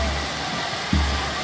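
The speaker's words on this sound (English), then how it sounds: "You can hear the water." Waterfall rushing at a scenic viewpoint in Sri Lanka, a steady broadband roar of falling water that fills the clip without pause, with a brief low thump near the middle.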